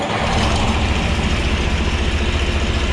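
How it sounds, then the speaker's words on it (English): A big John Deere 4020 diesel tractor engine running just after starting, a steady low, heavy rumble with an even throbbing idle, close and loud with no talking. "You push and it turns the big diesel over."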